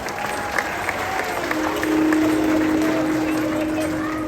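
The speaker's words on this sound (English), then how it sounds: "Let's give it a round of applause as you get up there." A crowd at a tiger show in a wildlife park claps and cheers, moderately distant applause swelling midway, while a presenter's voice carries over a loudspeaker.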